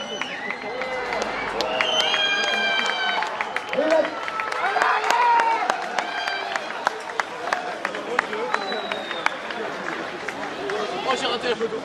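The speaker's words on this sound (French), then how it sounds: "le grand final et les applaudissements du public de Paris-Montparnasse." Spectators cheer at the finale of a cycling criterium in Paris-Montparnasse. Scattered clapping, shouts and whistles mix with lively crowd chatter throughout.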